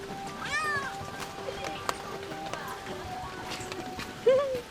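A cat meows outdoors on a rainy day in Kyoto, with a few short meows, the loudest near the end, over rain and street background noise. A person speaks softly nearby.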